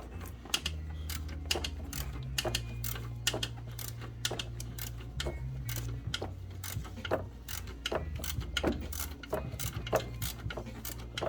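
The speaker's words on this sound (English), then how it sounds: "It's a double jointed ratchet, and it's working out a little better than where I was at, because I can make a Z out of this thing." A double-jointed Harbor Freight ratchet turning a bolt during alternator removal on a 2007 Jeep Compass 2.4L, giving rapid close pawl clicks in uneven bursts over a low steady engine-bay hum.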